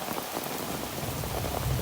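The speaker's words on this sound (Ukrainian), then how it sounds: "Який в нас йде дощ" Steady autumn rain falling and pattering on surfaces near a chicken coop, a dense, even hiss of drops that continues without a break.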